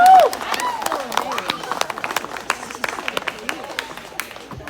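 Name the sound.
audience clapping at a magic show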